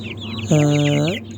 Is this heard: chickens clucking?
yes